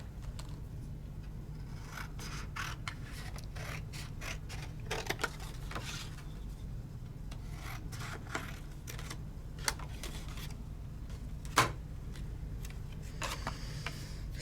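A thick 3D embossing folder holding gold paper is cranked through a Sizzix embossing machine, giving a steady low grinding rub with scattered ticks and creaks throughout, no talking.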